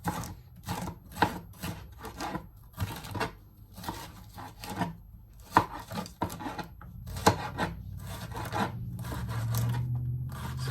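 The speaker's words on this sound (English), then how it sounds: "we're just gonna go ahead and just give these a nice rough chop" Knife chopping sweet peppers, onions, garlic and tomatoes roughly on a board, a close, uneven run of sharp taps with brief pauses, alone without talk.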